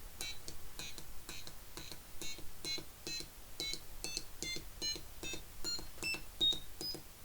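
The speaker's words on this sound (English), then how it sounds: "I get a lot of beeps and boops." A string of short, high electronic beeps, roughly a dozen in quick irregular succession, clear and close with no talking.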